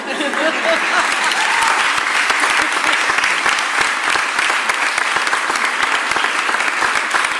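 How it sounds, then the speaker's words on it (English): A large audience at a mayoral event on the end of the District Council 33 strike applauds steadily and loudly for the whole stretch, a dense wash of clapping with no break. "give a super round of applause to Crystal Jacob Shipman"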